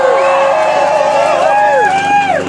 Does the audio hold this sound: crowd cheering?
yes